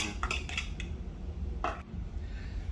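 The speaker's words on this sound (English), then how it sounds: "We're going to add in the eggs, and we're going to stir it around and make it happy" Utensil scraping and clinking in a bowl as eggs are stirred into low carb biscuit dough, with a few quick metallic taps early on and another burst later over a low steady background hum.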